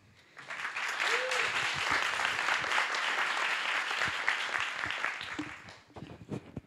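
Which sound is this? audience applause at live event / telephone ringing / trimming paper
audience applause at live event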